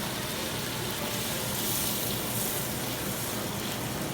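Half a can of broth pours into a pan of butter and flour, a steady broad wash of liquid that fills the whole stretch, fairly close and moderately loud with no talk.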